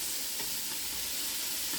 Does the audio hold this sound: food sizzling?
yes